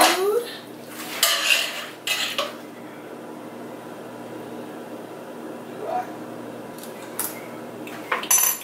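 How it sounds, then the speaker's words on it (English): Dishes and cutlery clink and scrape as cauliflower is plated in a home kitchen, in short clustered bursts with quiet gaps between, fairly close. "So I am plating the food."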